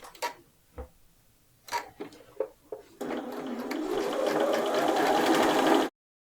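A sewing machine stitches the shoulder seams of a midi dress from neckline toward armhole, with a few scattered ticks and clicks of setup before a continuous, steady run of stitching that stops abruptly.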